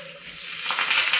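Oil tempering with curry leaves and asafoetida sizzles softly in a pan, building to brighter crackling pops over about a second.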